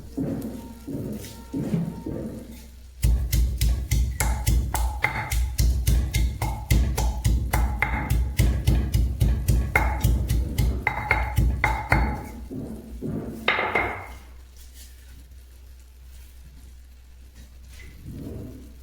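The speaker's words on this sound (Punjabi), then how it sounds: "ਇਹਨੂੰ ਮੈਂ ਛਿਲਕੇ ਸਮੇਤ ਕੁੱਟ ਲਿਆ" Garlic cloves with their peel being pounded: a long, steady series of close, dull thuds in quick rhythm that slows into a few final knocks, with no talking.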